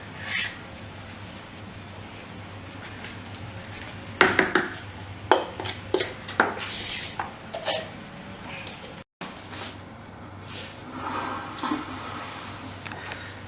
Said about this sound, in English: I'm using the spatula just to, randomly spread the substrate around